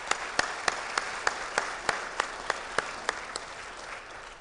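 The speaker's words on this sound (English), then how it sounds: "we should give them another round of applause" An audience at an Alpha Phi Alpha fraternity Eastern Region public program applauds the panelists, with a fairly quiet bed of clapping punctuated by a regular run of sharp, prominent individual claps.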